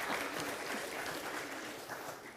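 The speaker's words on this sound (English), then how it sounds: "you can clap" A congregation claps during an Erev Rosh Hashanah service, a steady wash of applause that holds evenly for a couple of seconds without any talk.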